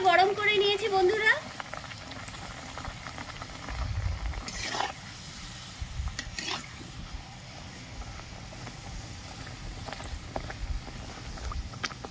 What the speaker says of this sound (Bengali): আমি এখন কচুরিগুলো ভেজে নিচ্ছি।